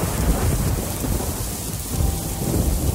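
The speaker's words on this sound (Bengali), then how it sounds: "সঙ্গে প্রবল ধারায় বৃষ্টির শব্দ।" A thunderstorm with heavy, driving rain sounds as a steady downpour with low rumbling thunder swelling underneath, a dense continuous roar with no voices, used as a sound effect.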